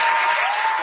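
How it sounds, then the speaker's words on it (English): Steady applause from a crowd at a Padres baseball broadcast, dense and even clapping throughout with no pauses, fairly loud and close. "Give him a big round of applause."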